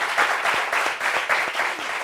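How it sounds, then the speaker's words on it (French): A crowd applauds in a brief, steady burst of clapping, dense and fairly close, with no voices over it. "Applaudissements pour ça, s'il vous plaît."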